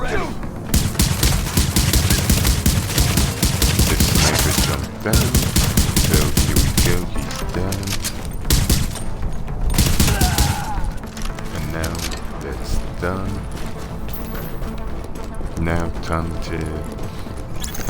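Gunfire in The Division, a loud, dense rattle of automatic weapons, heavy and sustained, with short pauses and bursts that overlap game sounds while a voice talks over it.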